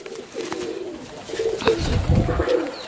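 Domestic pigeons coo in a low, throaty series of repeated rolling calls, close and clear, with no talking over them.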